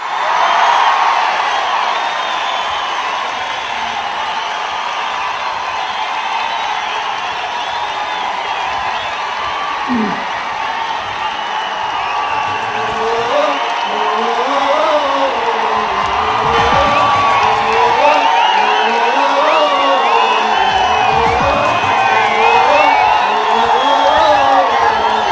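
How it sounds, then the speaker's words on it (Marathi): A large crowd at a Raj Thackeray political rally cheering and whooping loudly after an announcement, a sustained roar with rising shouts and rhythmic chanting toward the end. "राज ठाकरे यांची घोषणा ऐकताच सभेला उपस्थित लोकांनी एकच जल्लोष केला"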